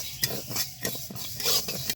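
Mung dal being dry-roasted in a pan, stirred with a utensil: a series of sharp scraping strokes at an uneven rhythm over a dry rustle of lentils, close and moderately loud, with no voices.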